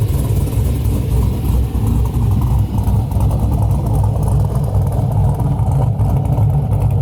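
A Camaro 1LE with a choppy cam idles close by, a loud, lumpy, uneven low rumble that carries on for several seconds without speech.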